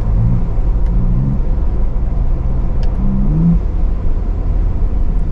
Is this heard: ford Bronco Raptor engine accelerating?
yes